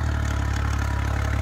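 A tractor engine idles steadily, a Sonalika-type diesel in the 3630 4WD and 5620 horsepower class, its low throbbing rumble close and continuous with a faint rhythmic clatter and no voices.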